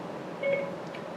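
A short electronic phone beep sounds once, clear and close, signaling voice command activation over a quiet background hum inside a 1967 Pontiac Firebird.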